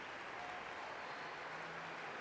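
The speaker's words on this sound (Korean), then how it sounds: "축복의 길에 오를 우리의 영웅을 위해 최고의 박수와 찬사를 보내주길 바란다" A crowd in Genshin Impact's Natlan applauds a hero with a faint, even wash of clapping that holds steady and never breaks.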